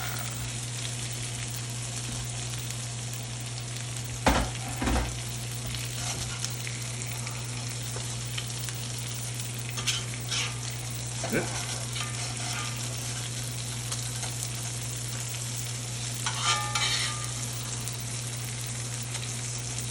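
A NY strip steak sizzles in a cast iron pan with butter, a steady close hiss with a constant low hum beneath and a few sharp pops and spatters scattered through.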